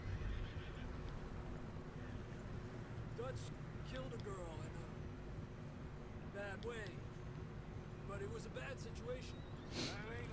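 In Red Dead Redemption 2, a horse neighs and whinnies several times over clip-clopping hooves and a steady background bed, with people talking throughout.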